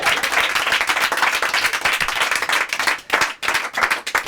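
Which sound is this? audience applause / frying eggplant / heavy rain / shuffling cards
audience applause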